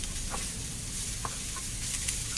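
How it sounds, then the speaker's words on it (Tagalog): Chopped cabbage sautéing in a pan for homemade dumplings, a soft continuous sizzle with a few faint pops and stirring ticks over a short stretch. "Ito, igisa muna natin para matanggal yung moist ng cabbage."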